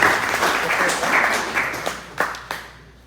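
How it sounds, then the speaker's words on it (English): An audience applauds a youth artist and family at a Wednesday night ceilidh, full clapping that fades quickly to a few scattered last claps. "So big round of applause to John Alexander Beaton and family."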